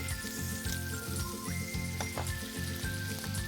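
Butter added to blond caramel in a stainless steel frying pan sizzles steadily and close up, a dense crackling hiss with faint metallic clinks through it.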